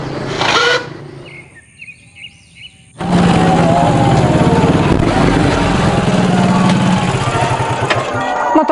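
A motorcycle engine starts up after a brief spell of bird chirps, then runs loud and close with a steady rumbling idle to the end.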